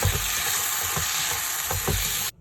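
Sliced Chinese yam stir-fried with oyster sauce and salt sizzles loudly in a pan, with a spatula scraping and tossing in repeated strokes, then cutting off abruptly at the end.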